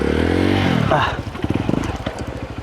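A trail motorcycle rumbles close by on a mountain trail, idling and then revving in choppy bursts as someone talks over it.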